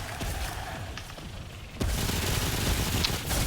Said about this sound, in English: this is a good opportunity to show you guys how fast the actual machine gun pistol actually can be utilized